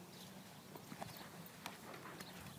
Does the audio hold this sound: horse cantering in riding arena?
yes